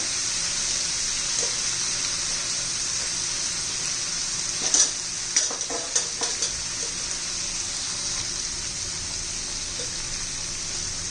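Capsicum sabzi sizzles steadily in a pan throughout, with a burst of stirring scrapes and utensil clatter in the middle before the even frying hiss settles again; no speech.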